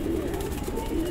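Soft, low cooing of high-flyer pigeons murmurs briefly and close by, a gentle throaty warble with no talking.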